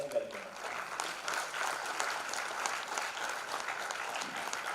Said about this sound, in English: Let's give him a warm round of applause as he welcomes.